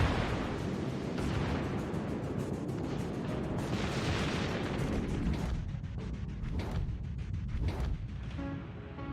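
Gunfire in a shooting video game, dense rapid bursts of shots crackling over a constant rumble, then sparser separate cracks near the end, fairly quiet overall.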